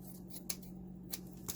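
Scissors snip through fabric in a few quick, crisp cuts, close by, over a low steady background hum.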